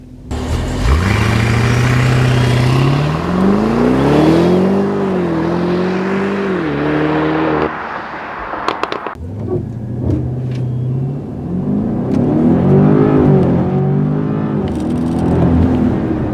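A car launches from standstill toward 60 mph, its engine note climbing steadily in one long pull. It drops briefly at a shift, then rises again, loud and close throughout with no speech.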